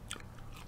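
A single quick bite into the crunchy fried breading of a KFC chicken sandwich, a short close crackle followed by a faint second crunch.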